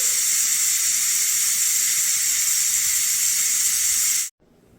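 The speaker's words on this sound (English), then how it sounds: "Let all the steam come out." Steam hisses loudly and steadily out of a pressure cooker holding green beans or turkey breast, a constant close rush that cuts off abruptly near the end.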